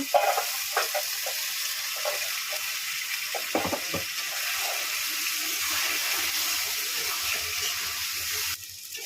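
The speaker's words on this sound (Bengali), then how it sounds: "জল দিয়ে দিলাম আর একটু" Water is poured into a cooking pot of fish-head curry spiced with sugar, a steady rushing hiss with faint sizzling underneath that cuts off abruptly near the end.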